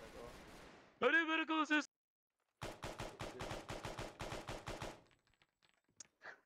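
Rapid bursts of video-game gunfire from a squad-based infantry shooter, a loud clustered volley followed after a pause by a longer run of sharp repeated shots, with a panicked voice shouting over the fire.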